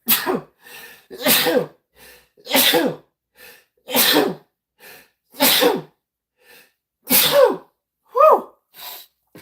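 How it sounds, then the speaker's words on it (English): A string of sharp, close sneezes, about eight in a row, each separated by a second or so of quiet. "I do have a problem with sneezing"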